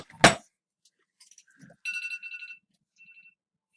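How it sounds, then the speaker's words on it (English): A phone timer alarm goes off indoors, a few short bright electronic tones in separate bursts after a sharp knock, close and fairly loud, with no talk. "My phone went off. I had a timer set on it for my tone knobs soaking."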